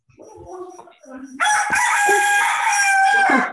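A rooster bursts into a loud, sustained cock-a-doodle-doo partway through, after some quieter indistinct sounds, with the call carrying clearly in the background of an online training session.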